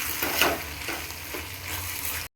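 Ground masala sizzles and fries in hot oil as it is stirred, a steady dense hiss with soft scraping strokes, close and continuous until it cuts off abruptly.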